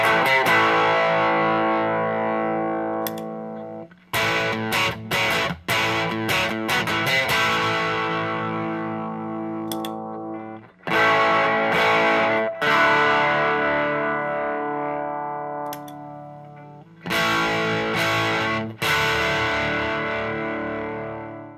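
Electric guitar chords heavily distorted by preamp tube overdrive ring out through a tube amp, sustaining and decaying, with several sharp restarts and pauses between phrases.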